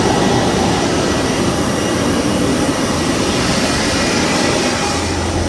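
An airliner taxis on the runway after landing in Goa, heard from inside the cabin as a loud, steady jet engine roar that holds constant throughout, with no talking.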